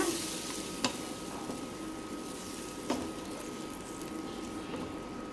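Quiet stirring of tamarind liquid in a cooking pot for vathal kuzhambu, with a couple of light clinks of a utensil over a soft, low sizzle.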